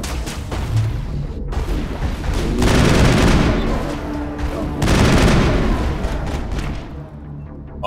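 Dense gunfire and heavy booms from a Mass Effect firefight fill the whole stretch, with two surges of bursts and impacts, loud and continuous, under brief speech.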